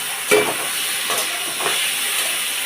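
A spice mix of fennel, cumin and dried chili meets hot oil for an okra curry, giving a loud close hiss with a few stirring scrapes against the pan.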